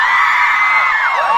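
Festival crowd at a book festival in the Philippines yelling and whooping excitedly, a dense, sustained wall of many voices shouting together at close range for a brief burst.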